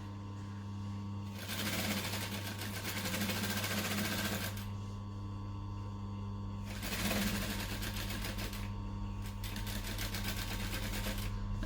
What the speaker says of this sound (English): I'm going to make sure that I backstitch to lock my stitches in.